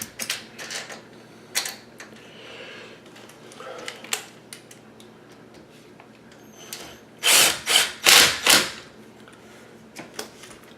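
A power screwdriver drives a screw back into a mirrored closet door roller in short whirring bursts, with scattered clicks and handling noises before a louder cluster of three or four close, strong buzzes.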